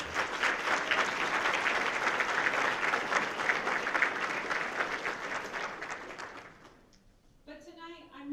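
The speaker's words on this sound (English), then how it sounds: "Let's give a round of applause for those graduating students." Sustained applause from a large audience at an Order of the Engineer ceremony honoring graduating engineering students, dense and steady for about seven seconds before fading, then a voice begins speaking.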